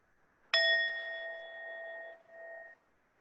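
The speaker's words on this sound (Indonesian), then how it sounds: "Kita akan akhiri latihan relaksasi ini dengan bunyi bel." A single bell struck to close a mindfulness relaxation exercise gives one clear ding that rings out with a long, slowly fading hum in a quiet room.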